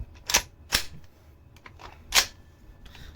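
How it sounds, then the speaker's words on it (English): Four sharp, snappy shots from a B&T GHM9 gas blowback pistol, Glock-magazine version, fired in an uneven pattern with a short gap between the last two, close and loud with no talk. "Let's test fire it."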